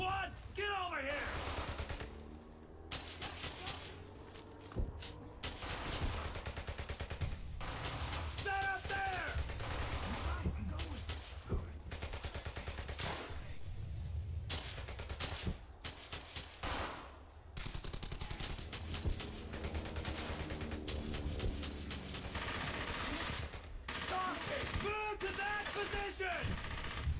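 World War II squad combat in the shooter game Brothers in Arms: Hell's Highway, with dense repeated rifle and machine gun fire in bursts throughout, plus soldiers shouting orders in between.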